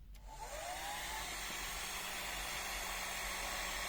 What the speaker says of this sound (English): a hair dryer for testing the current